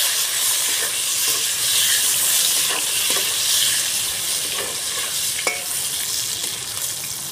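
Eggplant frying in hot oil, part of a Bengali shukto dish, gives a steady, loud, close sizzle and hiss that runs unbroken throughout, with a few faint stirring clicks and no speech.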